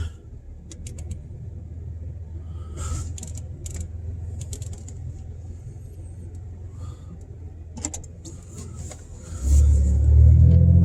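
A car with a 4-speed automatic transmission pulls away, its engine rumbling low and steady with some clicks and knocks, then swelling louder as it accelerates near the end.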